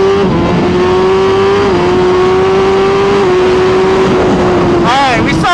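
A new 2023 Suzuki GSX-R1000 motorcycle at high speed gives a loud, sustained engine whine with slight pitch steps over heavy wind roar. A voice speaks briefly near the end.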